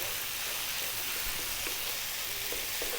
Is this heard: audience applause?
no